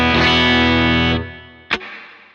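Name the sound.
bass guitar with hall reverb on Line 6 unit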